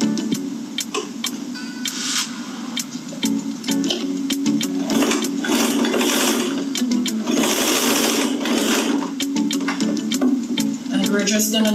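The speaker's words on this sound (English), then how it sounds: "We're just gonna top stitch right around our strap on all sides." A sewing machine top stitches around a fabric strap, its needle chattering in a fast, steady run with slight speed changes throughout.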